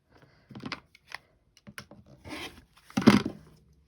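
A rotary cutter slices through quilting fabric for a Greek square block, giving a few short, quiet rasping strokes in bursts with pauses between, the last cut the loudest.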